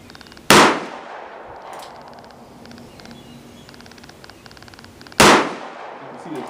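Two sharp, loud revolver shots from a heavy .357 Magnum handgun firing soft loads at a 25-yard outdoor range, spaced about five seconds apart, each with a quick decaying echo over quiet background.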